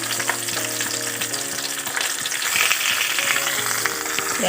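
Pui greens fry in a pan as they are slowly flipped, with a dense continuous sizzle and soft stirring scrapes throughout, close and steady.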